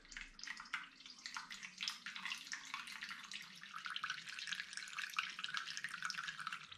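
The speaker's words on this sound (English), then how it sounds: "there we go, bubbles in the siphoning tube" Homemade bonfire toffee apple hard cider runs through a siphoning tube with bubbles, a soft continuous trickle peppered with quick gurgling pops and drips, quiet and close, with no voices.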